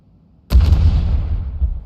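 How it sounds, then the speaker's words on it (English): A grenade detonates in the video game Into The Radius 2, a sudden loud boom with a sharp onset followed by a rumbling tail that slowly fades, heard alone without talk. "I mean, I want to see the explosion, but I also kind of want to be behind cover for this."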